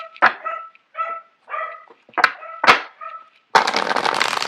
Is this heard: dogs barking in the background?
yes